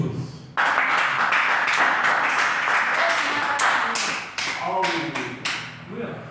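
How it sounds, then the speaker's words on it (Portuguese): A church congregation claps in loud, uneven applause, with sharp hand strikes and some raised voices mixed in, ebbing and swelling before thinning out. "Se possível, um aplauso para o nosso Deus, na igreja."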